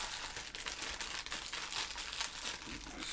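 Crinkling, crumpling plastic and tape on a package of junk silver coins as scissors work at it, steady and close for about three seconds with no talk.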